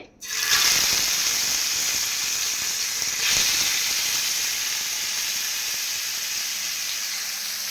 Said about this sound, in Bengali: একই ফ্রাই প্যানে আবার তেল দিলাম এখন আমি মাছ ভাজবো তেলটা অলরেডি গরম হয়ে গেছে